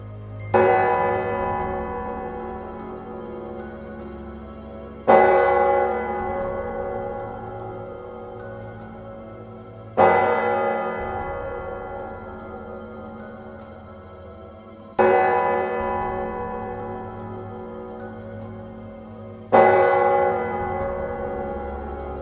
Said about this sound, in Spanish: de pronto las campanas de la iglesia comenzaron a sonar